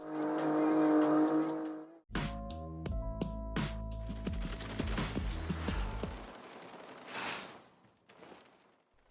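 Cars in CarX Drift Racing rev and screech through drifts and races, with a rising engine note, tire squeals and sharp crashing hits before fading to near silence.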